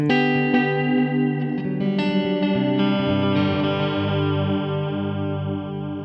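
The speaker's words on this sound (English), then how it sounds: "Let's switch now to our tape delay. You can hear a more compressed signal, slight high-end roll-off" An electric guitar through a JHS Pink Panther delay pedal on its tape delay setting strums and picks notes with echoing repeats trailing behind, the tone slightly dark and compressed, ringing out to a sustained fade.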